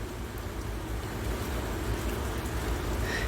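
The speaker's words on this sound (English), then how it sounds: "Oh yeah, here it comes. You kind of see it. See the rain." Heavy rain pours down in a steady, soft hiss of dense drops that continues evenly throughout without pause, heard from under cover.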